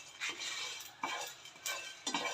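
Coriander, fennel, cumin, cinnamon and cloves are dry-roasted in a pan while a spoon stirs them, giving repeated scraping, rattling strokes at a steady rhythm, fairly close.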